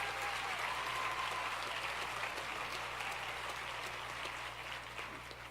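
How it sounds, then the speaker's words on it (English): Audience applause at a university public health commencement ceremony, dense and sustained from a large crowd in a big hall, holding steady and then easing off slightly toward the end. "a round of applause."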